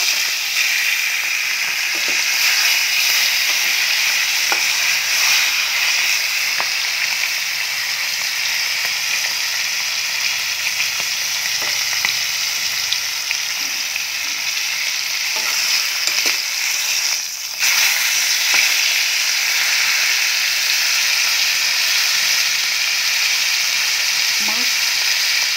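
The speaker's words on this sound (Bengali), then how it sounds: "ইয়াত এতিয়া মাছ ভাজি যাম।" Fish rubbed with salt and turmeric sizzles steadily in hot oil, a continuous loud bright hiss across the whole stretch with a few faint clinks and no talking.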